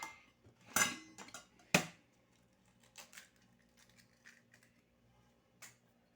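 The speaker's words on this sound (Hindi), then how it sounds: "तोड़ के इसको मैं अच्छी तरह फेंट लूँगी" An egg is cracked for a creamy chicken patty mix: two sharp, close cracks in quick succession, then a few light clinks and taps in an otherwise quiet kitchen.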